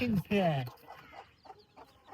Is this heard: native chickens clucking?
yes